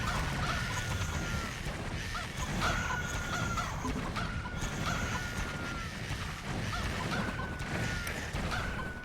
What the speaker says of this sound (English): I'm just going to make some chickens out of these guys